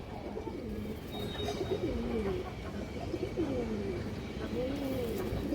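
Dobash pigeons of an old bloodline with short beaks cooing, repeated soft rolling coos close by over a steady background hum, with faint chirps mixed in.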